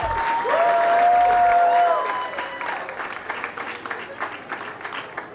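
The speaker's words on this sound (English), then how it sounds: "So just a quick round of applause for them, please." Wedding reception guests applaud in a sustained burst of clapping that swells and then thins out over a few seconds, mixed with a bright tonal sound and murmuring from the crowd.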